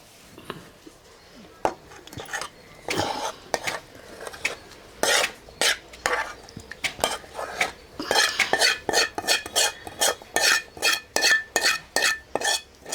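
Tomatoes with green chillies and tamarind being ground in a stone mortar for Andhra-style pachadi: repeated close scraping, knocking and grinding strokes that become a steady quick rhythm toward the end, with no talk.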